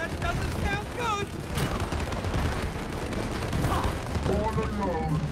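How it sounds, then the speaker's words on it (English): Explosions from bombs being thrown during play of the video game It Takes Two, a dense, continuous rumble of blasts and booms over game music, with people talking intermittently. "He's throwing bombs at us."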